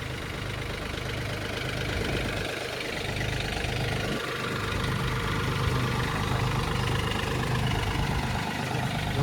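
A Mahindra Oja tractor and a Kubota 2420 tractor drive along together in gear on a farm, giving a steady, loud diesel engine drone with a low knocking rumble that runs unbroken throughout.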